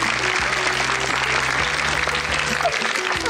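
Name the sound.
audience applause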